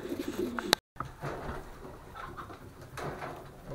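Pigeons cooing in a loft, soft low throaty coos repeating close by, with light rustling and a brief cut in the sound.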